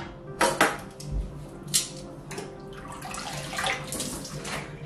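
Water splashing and sloshing as a natural dye pot is rinsed out, with a few hollow knocks and clanks of the pot between bursts of pouring and swishing, close by.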